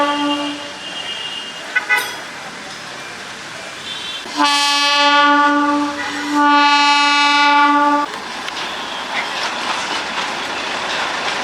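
The Darjeeling toy train sounds a loud, sustained whistle at the station, one long blast with a short break midway, over a steady background rumble and hiss of the platform.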